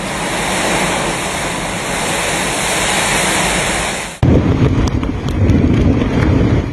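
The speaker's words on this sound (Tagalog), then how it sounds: "Naramdaman sa bayan ang pabugso-bugsong hangin, at ulan." Gusty typhoon wind and rain from Typhoon Ofel lashing a town in Cagayan province, Philippines: a loud, continuous roaring wash with no voices, its texture shifting abruptly partway through into choppier, gustier bursts.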